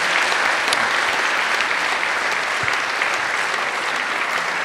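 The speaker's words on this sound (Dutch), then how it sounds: "Mag ik voor nu een heel groot applaus voor Peter Kuipers-Munneke, Gerard van Steenhoven en Claudia Wieners." An audience applauds speakers at a Dutch talk on the future of weather forecasting. Sustained, even clapping from a large crowd fills the whole span at a steady level.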